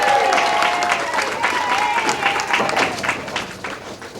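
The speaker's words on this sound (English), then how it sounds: "Great round of applause for Tim Lipke." Sustained applause from a bowling tournament audience, steady clapping throughout with some crowd murmur mixed in.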